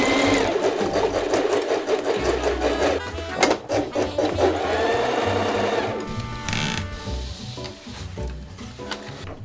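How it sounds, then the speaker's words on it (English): A sewing machine stitching fabric runs in quick rhythmic bursts, close and steady, pausing briefly and changing speed partway through. "Where did you learn to use the sewing machine?"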